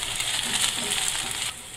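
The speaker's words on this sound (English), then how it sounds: "we have to add the ginger garlic paste and stir till the garlic and ginger paste mixes in the onion" Onions frying with ginger garlic paste while being stirred: a bright, continuous sizzle with faint scraping, close and fairly loud, which drops off abruptly near the end.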